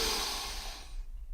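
A slow, deep breath, loud and close, hisses out and trails off into quiet, demonstrating relaxed breathing, with no talking.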